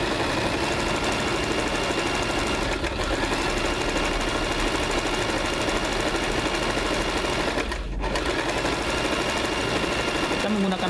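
A Janome CT2480LX sewing machine stitching with red thread: a dense, steady mechanical whir with rapid needle clatter running throughout, briefly dipping near the end, with someone talking over it.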